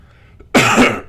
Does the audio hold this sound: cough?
yes